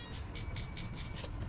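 Calibration beeps from the Furitek Lizard Lite ESC in a CR18P 2024 Edition Rushmore RC crawler, a run of short high electronic tones pulsing several times over a steady noisy background.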